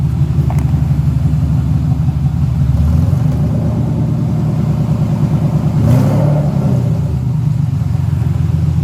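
A Mercedes SL600 engine revs in a low, steady rumble while ASR traction control intervenes, with a brief surge in the middle and no talking.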